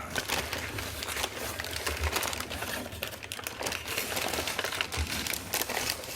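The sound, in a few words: unwrapping new rag notebooks from packaging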